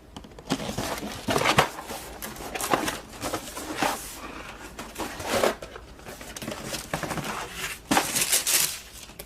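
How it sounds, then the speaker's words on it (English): Tissue paper inside a sneaker box crinkles and rustles in repeated bursts of crumpling handled up close, separated by short quieter gaps, with no talking. "This comes with tissue paper"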